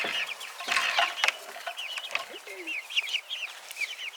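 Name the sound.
chickens clucking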